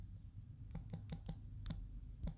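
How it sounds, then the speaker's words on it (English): Computer keyboard being typed on: about eight quick, faint key clicks in an uneven rhythm over a low background hum, no voices. "I'll just type in"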